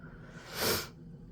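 A single short, breathy sniff close by, rising and fading within a second against a quiet background.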